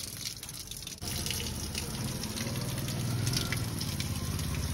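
Heavy rainwater gushing out through a drainage channel, a continuous loud rushing and splashing flow that swells slightly after a brief dip near the start.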